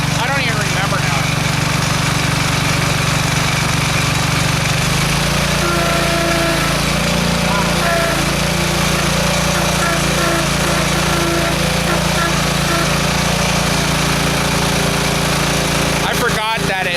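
A Bolens H14 garden tractor runs with a snowblower attachment fitted, its engine loud and steady at close range, the tone dropping and changing a few seconds in as the blower spins faster, with talk over the top.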